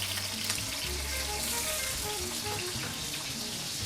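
Chili and a pinch of salt sauté in oil as the base for bagnun d'acciughe, a steady close frying sizzle with a soft bubbling crackle that continues unbroken.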